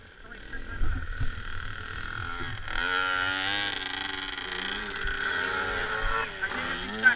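A 65cc dirt bike rides a circle track, its engine note rising and falling in pitch as it revs around at a moderate distance.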